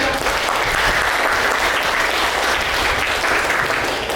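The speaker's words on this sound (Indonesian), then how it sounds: "Beri aplaus untuk anak-anak." A school audience at a senior high school event claps for the students, with dense, steady applause filling the space throughout.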